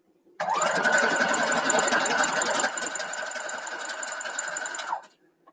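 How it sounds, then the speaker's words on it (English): Sewing machine running at a steady fast clip for about four and a half seconds, stitching a quilt block seam, starting and stopping abruptly, close and clear with no talking. "I'm going to go ahead and sew down 1/4 of an inch right now"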